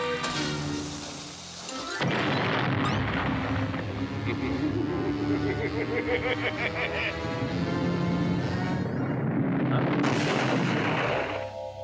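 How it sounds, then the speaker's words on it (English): A Looney Tunes cartoon cannon fires for Wile E. Coyote, a sudden blast followed by a loud, busy stretch of rumbling, clattering cartoon effects and music, with a second burst near the end. "Coyote. Cannon."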